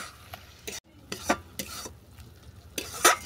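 Rice flour being stirred into ol shaak ghonto, a Bengali yam-leaf dish with jackfruit seeds, in a pan: a series of distinct scraping strokes over a faint background sizzle, close and fairly clear, no talking.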